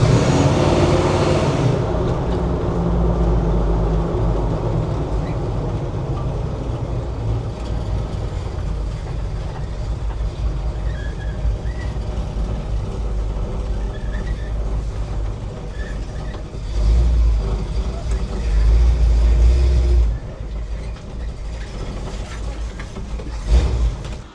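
1978 Ford Bronco being driven out of long-term storage, a steady low engine and road rumble close by with a couple of heavier surges near the end, no talking.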